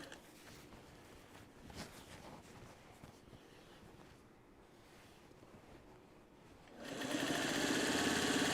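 A sewing machine binding the edge of a Trellis Garden quilt, running in a steady continuous drone with a loud burst of faster stitching near the end.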